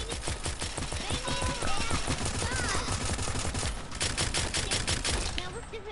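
Rapid, dense bursts of hand cannon gunfire in a video game, continuous pounding shots throughout with voices faintly audible beneath.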